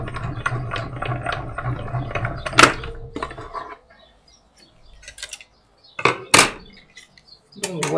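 A Stampin' Up mini die-cutting machine cranking paper through, with a rapid ratcheting, clicking mechanical rhythm up close, then a pause and a few scattered clunks and knocks.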